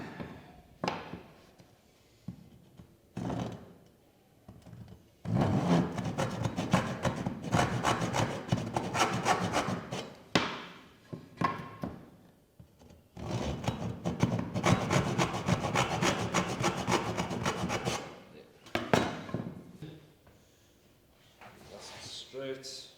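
Hand saw cutting wood for mortise and tenon joints: long stretches of steady rhythmic rasping strokes, close and fairly loud, broken by short pauses and a few lighter scraping sounds.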